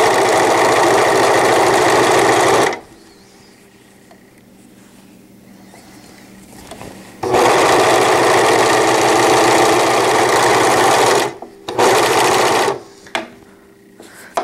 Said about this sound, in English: That gives your machine the best chance at a good serge.